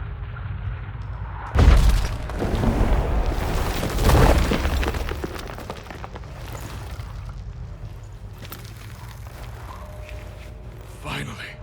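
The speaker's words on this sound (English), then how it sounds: "Stalagmites! Destroy them!" Stalagmites shatter in The Witcher 3, with two heavy booming crashes of breaking rock close together followed by rumbling debris and a long fading echo, over a low ambient drone.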